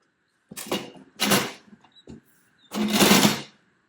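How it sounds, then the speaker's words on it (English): Power sander working a pallet wood guitar body in short bursts: three loud buzzing passes of about half a second to a second each, with brief quiet gaps and a small knock between them. "take this over here to my other sander and sand that off"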